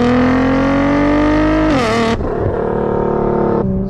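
Roaring twin-turbo V6 of a tuned 2018 Nissan GT-R at about 680 horsepower, accelerating hard and very loud from inside the car, engine pitch climbing steadily before a sharp gear change and another rising pull.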